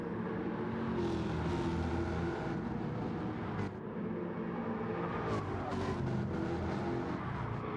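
Race cars in Gran Turismo 7 at the St Croix B circuit, a continuous engine roar with rising and falling revs and occasional sharp whooshes of cars passing, with no talk over it.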